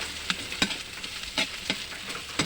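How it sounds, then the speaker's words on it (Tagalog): Dried anchovies (dilis) frying in a pan over a wood-fired stove, a steady sizzle broken by sharp, rhythmic scrapes and taps of stirring, close and alone. "Medyo piprito ko po itong dilis para lumasa po siya, mabango."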